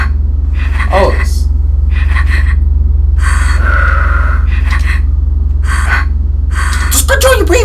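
A panicked character in the horror game Blackwell breathes heavily in a series of sharp, shaky gasps and breaths, several separate bursts over a constant low electrical hum.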